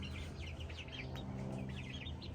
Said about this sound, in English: The chicks are in here.